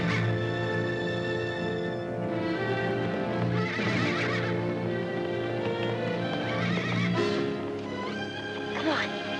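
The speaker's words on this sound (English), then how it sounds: "look at that wild stallion" A wild stallion neighs and whinnies repeatedly over hoof clip-clops, with people talking and music running underneath.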